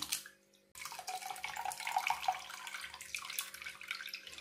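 Flattened rice (aval) being rinsed in a bowl of water: a brief pause, then continuous sloshing and splashing with small drips, close and fairly soft, with no talking.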